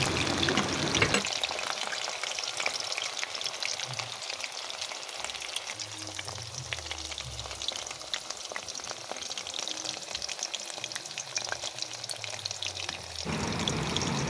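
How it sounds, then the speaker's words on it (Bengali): Chicken pakoras deep fry in hot oil, a dense, continuous sizzle and crackle heard close up with occasional low bubbling, no talking. "প্রথমে ব্যাচে সাত আট মিনিট করে ভেজে নেব"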